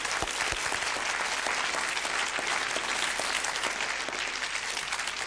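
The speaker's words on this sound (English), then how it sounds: "I'd like to give them a round of applause for their effort too." Audience at a 1980s multi-level marketing sales meeting claps in dense, loud, sustained applause that fills the whole stretch without a break.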